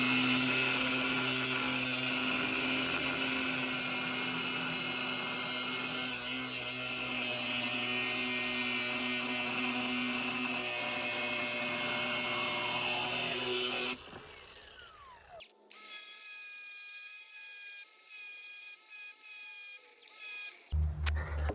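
A power tool cuts a bolt in half for use as a dowel pin during a serpentine belt repair on a 1995 Mustang GTS. The grinding is loud and continuous for about fourteen seconds, then stops abruptly, followed by quieter, intermittent tool and handling noises.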